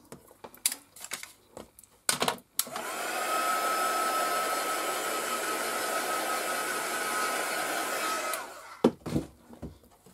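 A hair dryer blows steadily for about six seconds to dry stamp ink, a loud, even whoosh with a faint whine, bracketed by a few sharp clicks and taps before and after.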